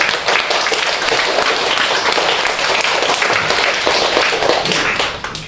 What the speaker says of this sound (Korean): 잠 한번 깨게 박수 한번 쳐봐요